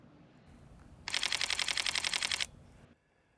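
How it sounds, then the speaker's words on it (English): A camera fires a high-speed shutter burst triggered by a Pixel TW283 S2 intervalometer, a close, rapid train of about twenty even clicks lasting just over a second, with quiet before and after. "So that was ripping off a whole grip of pictures."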